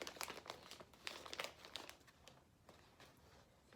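A straight catheter package being peeled open, heard as continuous close crinkling and crackling of plastic wrapping over a few seconds, with no talking.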